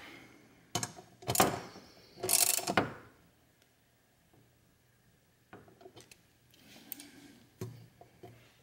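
A hand ratchet tightens a 10 millimeter nut on a Kia Stinger GT2 intake, with two bursts of rapid clicking near the start and a few quieter, scattered ratchet clicks and taps later, no voices.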